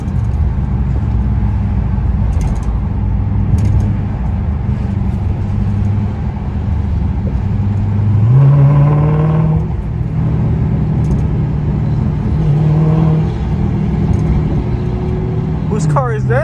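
A Dodge SRT 392 in track mode drones loudly from inside the cabin with a deep, constant V8 rumble. Two clear rev climbs rise and fall midway through.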